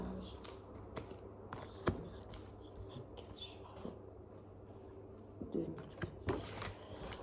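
Tarot cards are shuffled for a reading, giving soft, quiet riffling and slapping bursts with brief pauses between them, while someone talks quietly in French.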